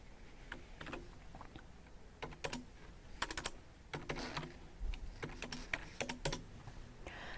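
Someone types an item code on a computer keyboard in ERP software, and the quiet clicking keystrokes arrive in irregular clusters with brief pauses between them.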